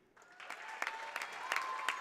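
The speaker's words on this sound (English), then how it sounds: "a round of applause for most valuable teammate, Benjamin Giesland" Crowd applause at a boys high school basketball game honoring the most valuable teammate, fairly quiet clapping that swells in after a brief hush and continues steadily.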